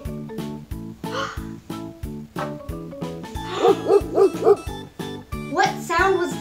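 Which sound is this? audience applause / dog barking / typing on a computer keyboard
dog barking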